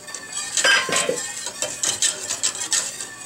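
A spoon scrapes and clinks against a cooking pot as apple, pear and cranberry pie filling is stirred, with repeated light metallic taps and scrapes at a close, steady pace.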